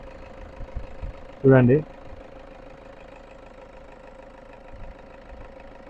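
An idling Toyota Innova 2.5 G engine gives a steady, low, continuous hum throughout, with a short burst of a voice speaking over it partway through.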